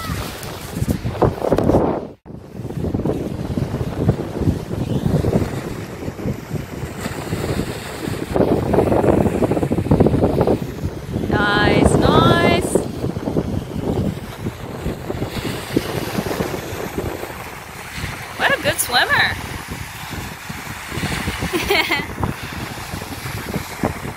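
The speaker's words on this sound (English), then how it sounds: "The waves are all right now." Broad rushing wash of surf and wind at a beach, swelling and fading over time, with occasional faint voices in the background.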